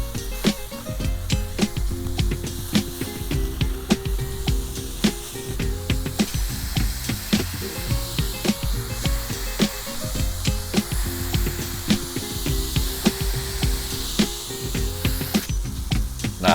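Chorizo smash burger patties sizzle on a dry griddle with no oil or butter, a steady loud hiss and crackle full of small pops and spits, continuous and close with no one speaking.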